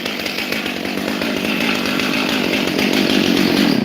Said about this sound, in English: Even when the chainsaw's going, you can hit the accelerator and the chain doesn't go round.